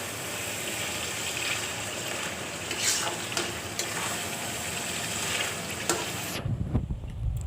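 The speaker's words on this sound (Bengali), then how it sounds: "এভাবে আস্তে আস্তে নেড়ে চেড়ে দিচ্ছি।" Spiced taro mash is stirred in a hot pan, giving a continuous soft frying sizzle with faint scraping strokes before a sudden drop to near quiet near the end.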